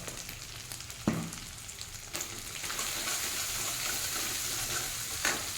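Spiced katla fish curry with chilli powder and coriander-cumin powder sautéing in a pan, a close, steady sizzle broken by a few sharp scrapes of stirring.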